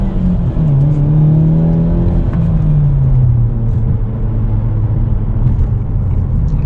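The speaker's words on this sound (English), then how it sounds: "One more acceleration round." A 2023 Hyundai Elantra N engine pulls hard under full throttle from inside the cabin, its note climbing and falling through a sustained, loud acceleration run with no talking.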